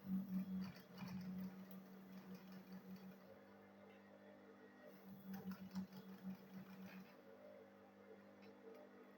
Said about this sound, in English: I'll sew it now